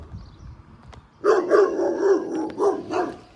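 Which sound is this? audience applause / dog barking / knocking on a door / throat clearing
dog barking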